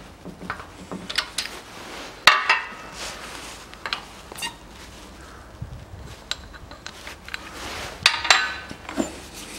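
A tall 30 mm socket drives a bearing into a Chevrolet Lanos manual gearbox, giving close, sharp metallic taps and clinks scattered irregularly over quiet workshop background.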